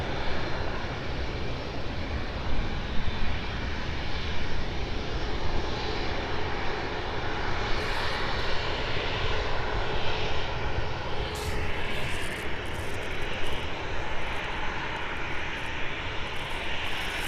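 A passenger jet bound for Ibiza roars steadily at an airport during morning operations, a loud, continuous broadband engine rumble that holds for the whole stretch without pause.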